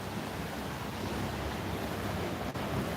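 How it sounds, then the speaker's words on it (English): Sea waves wash against the coast of Malta in a constant, dense roar, steady and fairly loud with wind rumble on the microphone and no voices. "And here we have the sea"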